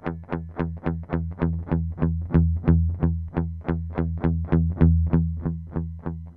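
Electric guitar played through a Mosky Classic M-SA pedal, with a steady, even rhythm of repeated distorted chugs and a slight chorus shimmer, close and alone.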